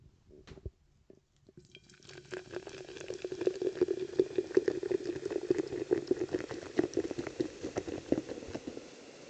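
Carbonated Coca-Cola Orange Cream poured into a glass, a few soft ticks giving way to a dense, steady crackle of fizzing bubbles heard up close and alone.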